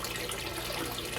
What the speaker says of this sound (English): They're always splashing around.